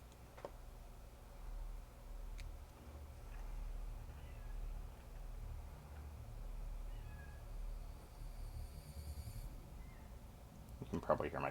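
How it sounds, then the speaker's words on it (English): A pet cat meows faintly in the background of a quiet room during a miniature painting session, a few soft calls over low hum, with a louder clatter near the end. "You can probably hear my cat in the background"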